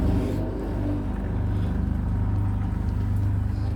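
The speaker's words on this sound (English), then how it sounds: "now we then just turn the pump back on again" A swimming pool filter pump, just switched back on, runs with a steady low motor hum and rumble of circulating water, close and continuous.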